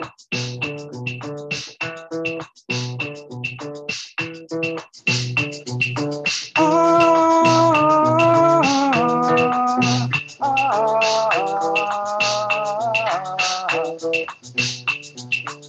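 A slowed clave rhythm with a backbeat added in Jamaican dancehall style, played as bright plucked pitched notes in a bouncy syncopated pattern, swelling midway into sustained layered chords before returning to sparse rhythmic hits.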